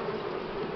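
Buckfast honey bees buzz steadily and close during a spring hive inspection and feeding, a dense continuous hum with no talk.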